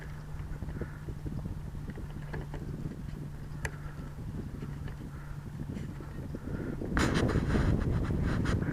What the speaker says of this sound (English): The wind's starting to come up now